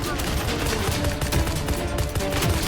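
Rapid gunfire in the Hyper Front video game rattles in dense, continuous bursts of sharp shots and machine-gun fire from start to finish.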